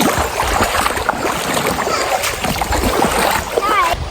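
Water splashing and churning close by while people wade across a river on a mountain farm, steady and fairly loud throughout, with occasional voices.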